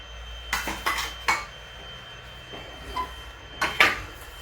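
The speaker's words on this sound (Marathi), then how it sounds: "आपण एकसारखं हलवायचं आहे म्हणजे छान असं मिक्सअप होतं एकजीव होतो" Sesame and jaggery mixture for til-gul vadi stirred in a pan, with sporadic metallic scrapes and clinks of a spoon against the pan, a few clustered knocks then a pause, over a low steady background hum.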